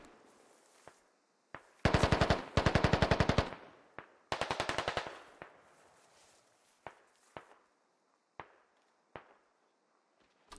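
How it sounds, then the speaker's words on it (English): Bursts of rapid automatic gunfire from a firefight in the Squad military shooter, two long loud rattling volleys followed by scattered single sharp shots at irregular intervals, with no talking. "Viper takes some shots at Pony."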